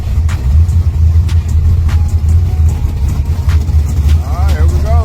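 A drag racing car being tested at the XRP track gives a loud, steady low engine rumble that runs through the whole stretch, with faint voices in the background.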